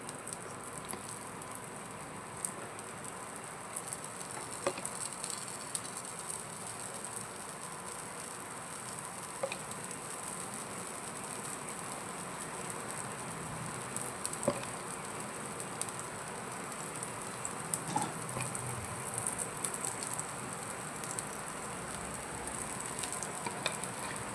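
Ragi paddu batter fries in oil in a paddu pan, a steady close sizzle laced with small scattered pops and spatters that hold on for the whole stretch.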